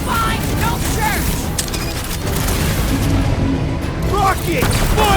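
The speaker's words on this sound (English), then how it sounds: "Rockets! Fireworks!" Rockets and fireworks explode during a dragon battle in the Guardians of the Galaxy video game: repeated booms and crackling bursts over dense battle noise, with characters shouting over the blasts.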